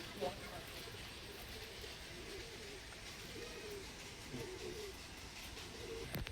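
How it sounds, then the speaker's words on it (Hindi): Soft coos from Punjabi pigeons in Malegaon, India rise and fade several times through a steady hiss of background noise, with faint voices and distant rumble underneath. "और ये बिलाल उस्ताद के हाथ के कबूतर आप देख रहे हैं आपके स्क्रीन पर"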